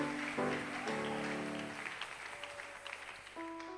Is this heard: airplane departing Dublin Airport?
no